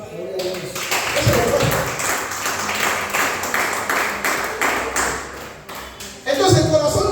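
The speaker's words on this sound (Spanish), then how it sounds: "Denle un aplauso al Dios esta noche." Church congregation clapping together at an evening service, a steady rhythmic applause sustained for several seconds, with a voice and a ringing ping near the start and end.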